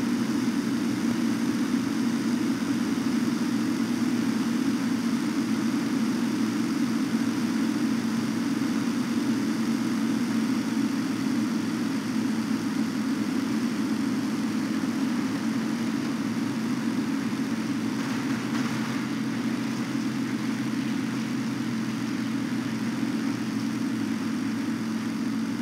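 Propeller engines of WWII fighters, Hurricanes and P-40s over El Alamein in 1942, drone steadily and loudly throughout, a continuous low roar with no pauses or voices.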